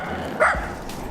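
One short, sharp dog bark at an outdoor evening skating spot, heard fairly close over faint background noise.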